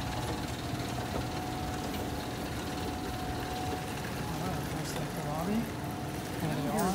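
A vintage Westinghouse escalator motor hums steadily and loudly in an office tower, a constant mechanical drone with faint rhythmic clatter from the moving steps and a few brief squeaks.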